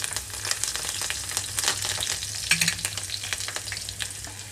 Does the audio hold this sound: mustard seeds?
yes